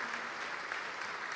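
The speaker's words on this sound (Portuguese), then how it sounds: "Vamos aplaudir mais, igreja." A church congregation applauds in a brief, steady burst of clapping from many hands, filling the room evenly.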